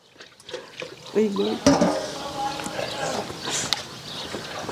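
Water poured from a vessel in a home comedy sketch set in Gujarat, heard as a short splashing stream mixed under steady conversation.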